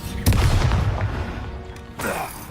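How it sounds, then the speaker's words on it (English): An Incendio fire spell in Hogwarts Legacy bursts with a deep boom and whooshing roar, followed by a second flare-up near the end, loud and close. "Incendio."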